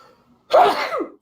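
A single short, explosive sneeze bursts out close by after a moment of near silence, then trails off quickly.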